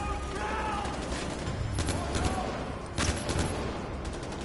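Gunfire in the video game Far Cry 4: bursts of shots stand out sharply at two moments over a steady, dense bed of game background noise.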